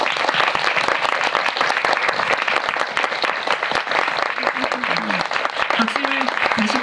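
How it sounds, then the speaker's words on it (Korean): An audience at a cinema talk event for the film Beasts Clawing at Straws applauds to welcome the actress and director, dense sustained clapping filling the hall while a voice speaks faintly beneath it. "큰 박수로 맞이해주세요"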